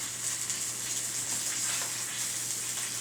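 Sausage searing in a hot pan gives a steady, hissing sizzle with light crackles, close-miked and constant throughout, no voices.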